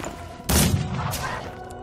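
A gunshot in the video game Mordheim: City of the Damned, one loud close blast with a short rumbling tail that fades into low game ambience, with no voices.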